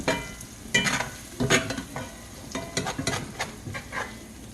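Pork chops fry in a brand-new cast iron skillet, giving a continuous close sizzle and crackle with uneven swells and spatters, and no voices over it.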